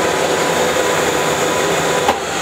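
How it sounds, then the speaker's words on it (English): An Abene milling machine table traverses in rapid feed, giving a steady, loud mechanical whir and hum that holds evenly throughout with no speech. "if I want to move the table now, I press this, and I'll go into rapid feed."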